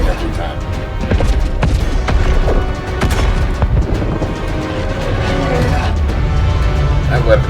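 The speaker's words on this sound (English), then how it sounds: "It must take a lot of energy to fire their main weapon" A spaceship's main weapon in Star Citizen fires with heavy booms and crashing impacts amid a loud space battle, while voices speak over the explosions.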